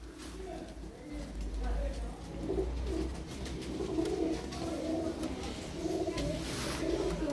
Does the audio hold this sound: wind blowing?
no